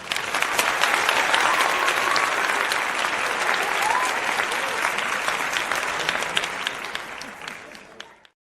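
Sustained applause from an audience, a dense steady clatter of clapping that holds for about eight seconds before fading out, with a faint crowd murmur underneath.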